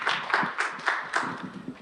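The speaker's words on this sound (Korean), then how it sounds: "뜨거운 박수 부탁드립니다." At a Korean business gathering, a small audience claps to welcome a speaker to the stage, with sharp, separate claps in a loose, uneven rhythm and no voices over them.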